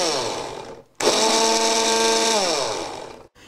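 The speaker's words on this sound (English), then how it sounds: "we're just going to add a few cloves to that to grind up as well, just a pinch of, 3 or 4. And blitz that again until it's mixed." A blender blitzes whole spices with three or four added cloves for a hot chicken curry, a loud steady whirring grind starting after a brief pause and running for about two seconds before cutting off.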